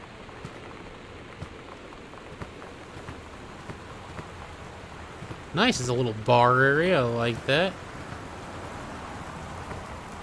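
Rain falls steadily outside in the video game Gone Home, a soft continuous patter in the background while someone talks briefly over it.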